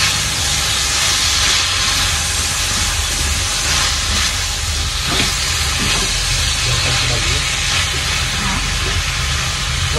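Egg and tomatoes cooking in a hot pan, a loud continuous hiss of frying that stays even throughout, close up, with no clear talk.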